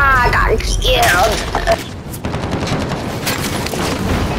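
Gunfire in a Call of Duty match, a loud burst of shots and booms at the start followed by rapid crackling fire under game noise.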